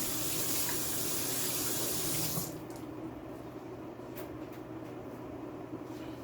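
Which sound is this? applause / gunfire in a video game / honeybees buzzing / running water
running water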